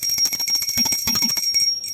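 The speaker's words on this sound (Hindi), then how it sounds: "तो बजा देंगे घंटी" A hand bell rung during a Hindu puja food offering, sounding as a rapid continuous bright jangle of metallic strikes, close and fairly loud, ringing steadily throughout.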